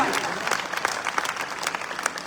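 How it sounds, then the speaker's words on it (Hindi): An audience at a night-time religious festival gathering claps in support, a brisk, dense round of applause with distinct individual claps popping out, and some crowd murmur mixed in. "एक बार तालियों से समर्थन करें कि होना ही चाहिए"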